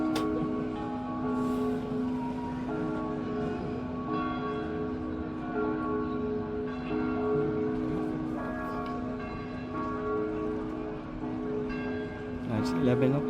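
Church bells chime across Prague on Easter Sunday, heard from the Powder Tower as sustained, overlapping ringing tones that carry steadily for the whole stretch under faint city ambience.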